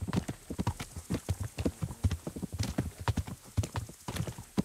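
Horse hooves clip-clop at a quick, steady rhythm in the medieval role-playing game Kingdom Come: Deliverance, a dense run of close, crisp hoofbeats without talk.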